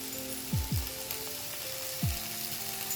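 Masala spices fry in a kadhai for kadhai paneer, with a steady close sizzle and a few short stirring or scraping bursts over about three seconds, and nobody talks.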